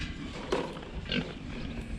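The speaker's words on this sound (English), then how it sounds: "these guys are the other show pigs" Show pigs on a farm grunting at feeding time: a few low snorting grunts over steady barnyard noise, moderately close, with no talk.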